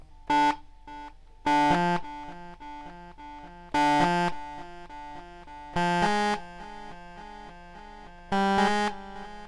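Modal Electronics Skulpt synthesizer with distortion applied: harsh, buzzy, harmonically dense synth chords hit at regular intervals, each with a gritty sustain that trails off, played alone with no voice.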